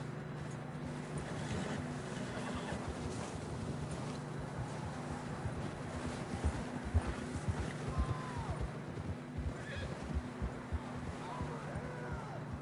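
A horse's hooves clip-clop in Red Dead Redemption 2, a steady rhythm of moderate, fairly close hoofbeats over a constant bed of wind and outdoor ambience.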